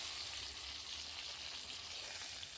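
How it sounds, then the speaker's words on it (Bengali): Eggplant slices frying in oil in a pan over a clay stove give a steady, close, even sizzle with dense crackle and no talk throughout. "বেগুনটা আমি লাল করে ভেজে নিয়েছি দেখেন"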